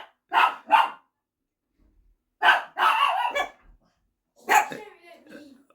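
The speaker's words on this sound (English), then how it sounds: "Right in the middle of the filming, dogs go crazy." Dogs bark in several short, sharp bursts of two or three barks each, close and loud, separated by silent gaps.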